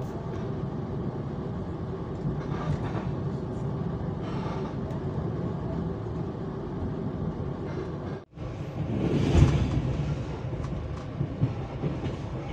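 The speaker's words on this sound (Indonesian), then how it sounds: "KA Jayakarta diberangkatkan kembali dari stasiun Kroya jam 21 lebih 32 menit" KA Jayakarta passenger train pulling out of Kroya station at night, a steady rumbling roll of wheels and carriages with a brief dropout, then a louder swell of rail noise and scattered clacks.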